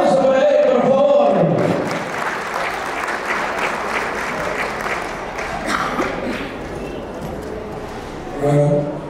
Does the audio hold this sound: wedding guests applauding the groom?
yes